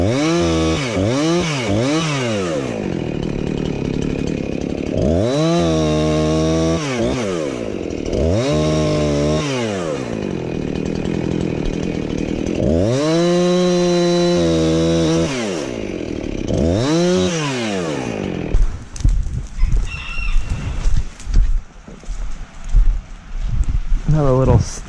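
Chainsaw with a freshly sharpened chain cutting through wood stumps, loud and close, its engine rising and falling in repeated revving pulls before dropping into rougher sputtering idle near the end.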